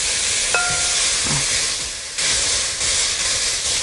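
Onions dropped onto frying minced meat for a Bolognese pasta sauce: a loud, broad, steady sizzle and hiss with a brief clink near the start and a fresh surge of sizzling about halfway through.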